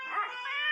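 A dog gives a short, high, tonal howling whine that wavers in pitch, fairly close and clear against a quiet background.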